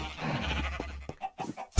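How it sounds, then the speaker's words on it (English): A pink sheep bleats in Minecraft, giving a short wavering cry followed by a few softer game blips and a loud thump at the end. "A pink sheep named Barbie."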